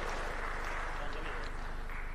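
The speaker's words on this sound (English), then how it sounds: "Let's give her a round of applause." Audience applause for a minister at an international e-learning conference in Africa, a faint, dense, even patter of many hands sounding distant and continuous throughout the short stretch.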